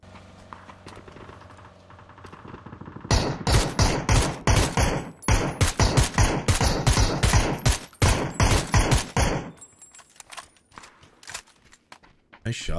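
A long run of sharp gunshots in the video game PUBG rings out in rapid succession, loud and close for several seconds before stopping, preceded by a quieter stretch of background sound.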